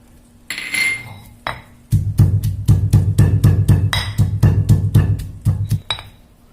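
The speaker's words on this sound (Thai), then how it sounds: "เดี๋ยวเราไปตำน้ำพริกขากันค่ะ" Steady rhythmic pounding of a pestle in a mortar, crushing galangal chili paste with dried shrimp, about a dozen loud, close thuds with bright clinks. A few scattered knocks come first.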